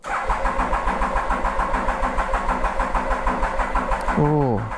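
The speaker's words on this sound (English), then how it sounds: "So I'll just start up the Triumph." A Triumph motorcycle engine runs steadily with a regular pulsing throb, fairly loud and close, on a cold morning, then a rising whine near the end as it catches and revs.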